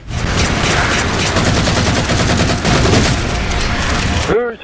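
Rapid gunfire from a Halo 4 Spartan Ops match, a dense, loud stream of automatic shots with overlapping bursts and explosions, continuous until it cuts off abruptly near the end, with voices talking underneath.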